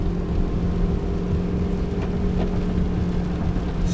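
Steady low engine drone from a 2004 Dodge Ram 1500 crew cab 4x4 with a 5.7 liter HEMI V8 while driving, an even rumble with faint road noise and no talk.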